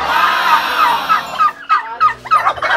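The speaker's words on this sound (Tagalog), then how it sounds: "Yan po yung mga pabo niya" Turkeys gobbling on a farm, a loud close chorus of warbling gobbles that runs continuously at first, then breaks into several separate bursts of gobbling.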